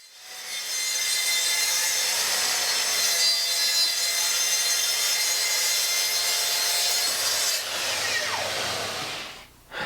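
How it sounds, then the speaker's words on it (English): Circular saw, depth set past 18 mm, cutting through decorative board sheet in a workshop: a loud, steady high-pitched whine of the blade biting the board for several seconds, then winding down with a falling tone. "I'll then set the saw depth greater than 18 mm to cut all the way through the material."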